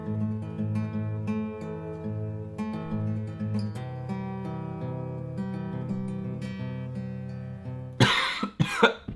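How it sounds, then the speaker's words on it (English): A person coughs several times in a quick, harsh burst at the very end, following a stretch of tonal electronic music playing alone. "I'm starting to cough."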